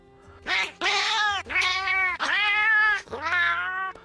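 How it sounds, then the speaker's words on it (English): A Siamese cat meows five times in a row, long, loud, wailing cries close to the listener, each slightly drawn out with a low hum underneath, used as a video game sound in Monster Hunter. "the sound director used his own personal pet, which was a Siamese cat named Migya."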